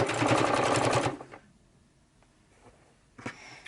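Sewing machine backstitching through a fabric cover for a junk journal, a fast, even rattle of stitching held for about a second that then halts, followed by a couple of faint clicks.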